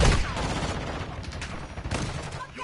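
Repeated shotgun blasts in a chaotic video game firefight, dense overlapping gunfire with voices talking over the action.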